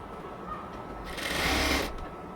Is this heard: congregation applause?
no